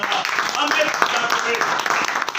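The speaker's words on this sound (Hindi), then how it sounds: "मैं आप सबकी जोरदार तालियों के बीच बुलाना चाहूंगा" An audience claps steadily and densely throughout to welcome a presenter at a business service presentation event, with faint voices mixed beneath the applause.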